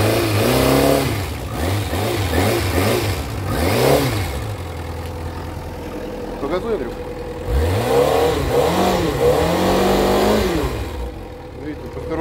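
A Kawasaki ZZ-R400 motorcycle engine revs up and down in several bursts, then settles to a rumbling idle before revving again, with someone speaking briefly over it.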